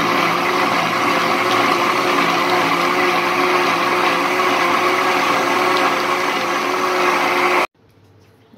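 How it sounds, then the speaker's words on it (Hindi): A loud, continuous high-pitched motor whir of a mixer grinder grinding batter, running steadily for several seconds, then cutting off suddenly. "अब आप इसको मिक्सी ग्राइंडर की मदद से ग्राइंड कर दीजिए।"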